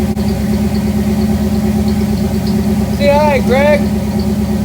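A Jeep engine idles steadily before a test drive, a continuous low mechanical drone with people talking over it nearby.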